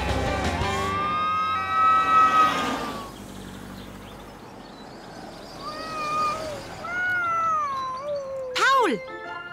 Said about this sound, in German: Dort steckt eine Katze im Baum fest.